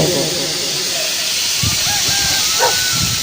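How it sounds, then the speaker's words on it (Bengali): Mustard greens fry with salt, turmeric and green chilli in a pan, giving a loud, continuous steamy hiss close up, with a few faint chirping tones and low thumps in the background. "এবার নুন হলুদ দিয়ে শাকটাকে ভালোভাবে ভেজে নেব"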